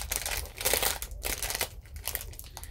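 Crinkly plastic packaging holding a Tigger toy rustles and crackles continuously and close up, loud and busy throughout as it is worked open by hand.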